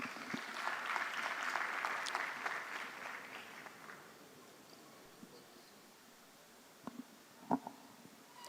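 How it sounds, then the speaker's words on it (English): Applause from an audience at a live event staged by a radio station, a fairly faint crowd clapping for about four seconds, then fading to near quiet with a few scattered knocks and rustles. "Another round of applause for him."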